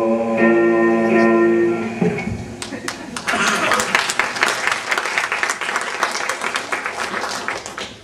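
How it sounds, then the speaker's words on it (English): Applause breaks out at a memorial service after a sustained tonal sound fades, and a full room of clapping swells and carries on steadily to the end with a chuckle or two. "It's always good to hear applause at a service like this, isn't it?"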